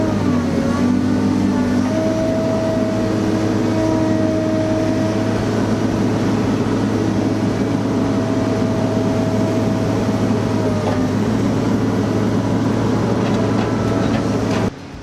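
A logging truck strains for traction in mud at a swamp logging deck in North Carolina, its engine holding a steady, laboring drone for about fifteen seconds, moderately loud, with no talking.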